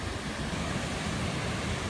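Tat Chanan Waterfall at the stone bridge in Seka, Bueng Kan, pours in a steady, dense broadband rush of falling water, loud and continuous, with no voices.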